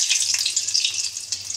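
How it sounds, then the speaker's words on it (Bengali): Fenugreek seeds hit hot oil in a cooking pan and give a brief, steady hissing sizzle, fairly close and alone with no talk. "মেথি ফোড়ন দিয়ে দিলাম"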